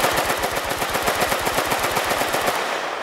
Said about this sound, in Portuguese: Eita, soltou tiro, soltou tiro.